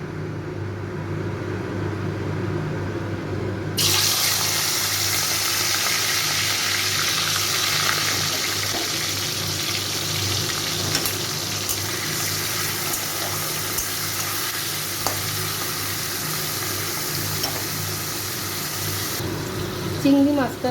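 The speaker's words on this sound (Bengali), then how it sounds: "এবারে চিংড়ি মাছগুলো ভেজে নেব" Shrimp are fried in hot oil, a steady sizzle that starts abruptly and keeps up at moderate loudness with occasional small crackles and pops, with someone speaking over it at times.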